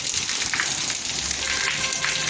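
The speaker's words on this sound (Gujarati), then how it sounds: "કેટલો બધો વરસાદ પડી રહ્યો છે" Heavy downpour in Nadiad falls steadily outside a shop and splashes inside, making a dense, loud, continuous hiss without pause.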